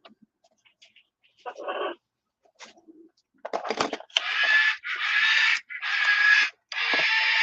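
A pet bird calls indoors in a run of four loud, raspy bursts after some quieter rustling and clicks.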